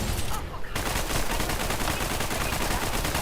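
Rapid automatic gunfire rattles without a break in Fortnite Arena, a loud, dense stream of closely spaced shots that keeps up right to the end after a short gap near the start.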